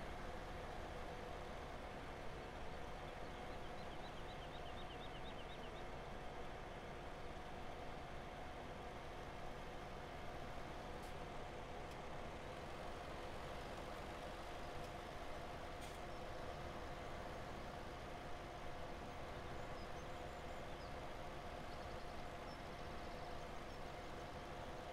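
A tractor engine in Farming Simulator 17 drones in a low, steady rumble that runs unbroken for the full stretch, fairly faint, with a faint steady whine and a few brief clicks.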